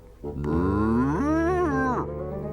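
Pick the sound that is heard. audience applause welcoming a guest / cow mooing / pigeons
cow mooing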